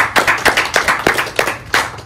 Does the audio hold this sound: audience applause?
yes